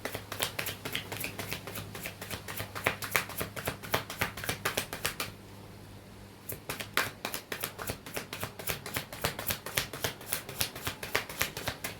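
Tarot cards riffle and snap in rapid, crisp bursts close to the mic, with a brief pause midway before the shuffling resumes, no talking heard.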